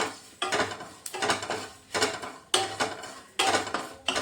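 Whole cumin, fennel seeds and spices dry-roasting in a pan as a spoon scrapes and stirs them in repeated strokes, with close metallic scraping and clatter about every half second.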